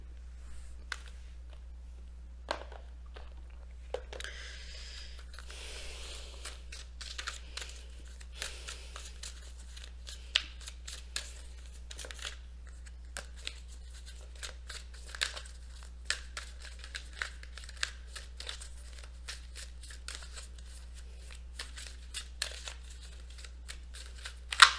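Oracle cards being shuffled by hand, a soft steady run of papery crinkles and light flicks throughout, fairly quiet over a low constant hum, with no talking.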